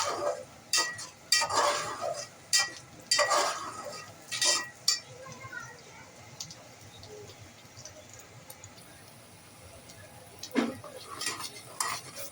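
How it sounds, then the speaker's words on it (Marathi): Ground coconut masala being sautéed in oil in a pan for a chicken curry, with intermittent scraping and stirring strokes against the pan over a faint sizzle, louder in bursts early and quieter later. "खोबऱ्याचं वाटण केलेला मसाला याच्यामध्ये परतून घ्यायचा."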